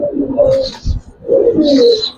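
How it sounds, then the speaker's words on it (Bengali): Giribaz pigeons cooing up close in two clear, drawn-out phrases separated by a short pause, loud and unaccompanied. "এখানে 10 পিস কবুতর, এখানে আছে 10 পিস"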